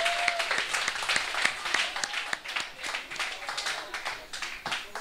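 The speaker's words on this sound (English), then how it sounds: "Let's give him a round of applause again." A crowd gathered for the reopening of a refurbished steelpan theatre in San Fernando gives a speaker a round of applause. The clapping is fairly faint and scattered, with distinct individual claps within a softer wash of hands.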